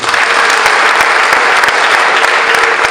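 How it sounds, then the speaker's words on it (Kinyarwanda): A choir audience gives loud, dense, continuous applause. The clapping stays steady and close throughout. "Ndetse uyu mwanya reka tugukomere amashyi twese."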